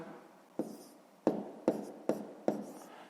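Pen strokes as numbers are written by hand: five short scratchy strokes, spaced at uneven intervals, each fading quickly, close and quiet with no voices.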